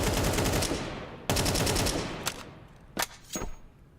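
Wallbang gunfire in a pro Counter-Strike match: rapid automatic bursts of shots punch through walls, first as long sprays, then shorter separated bursts and single shots fading quieter.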